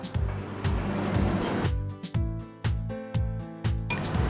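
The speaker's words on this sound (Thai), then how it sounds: "เราน้ำซุปลาดลงไปได้เลยครับ" Soup broth poured over steamed ginger fish: a splashing pour at first, then a series of rhythmic gurgling glugs, close and fairly loud, with no speech.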